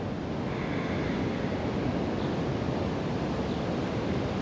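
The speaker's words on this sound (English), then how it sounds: "you have this small sound in the back of your throat that almost sounds like ocean waves" Ujjayi yoga breathing, a slow exhale made in the back of the throat with the mouth closed, gives a soft, steady, close rushing hiss like distant ocean surf, continuous throughout with no voice.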